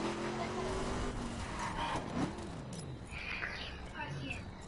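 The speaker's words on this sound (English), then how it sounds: "Cruising around my Ferrari." A Ferrari in The Crew racing game cruises with a steady engine drone and some tire noise, rising and shifting in pitch, heard under ongoing talk.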